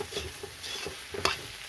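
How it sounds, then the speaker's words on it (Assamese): Something fries in a pan with cumin and salt. A spatula scrapes and stirs in quick, uneven strokes over a soft sizzle, ending with a few louder scrapes. "এইখিনি মোৰ ভজা হৈ গ'ল। ধুনীয়াকৈ ভাজি ল'লোঁ।"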